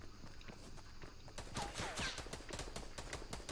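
Fortnite gunfire crackles as a rapid string of sharp shots in the second half, following a quieter stretch of game ambience.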